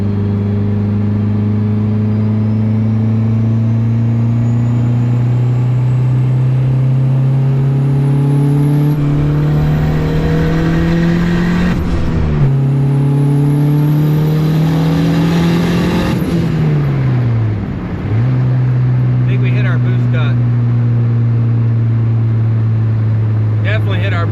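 A built single cam engine under boost roars loud and steady, climbing in pitch as it pulls hard, easing back briefly, then rising again, with a sharp drop near the end as it lets off.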